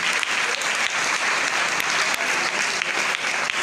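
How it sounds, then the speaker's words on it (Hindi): Loud, dense applause from an event audience fills the whole stretch, steady and sustained with many overlapping claps and no talk over it. "हमारे great upline mental Umesh Maurya, नीलम कुशवाहा के लिए जोरदार ताली चाहूंगा"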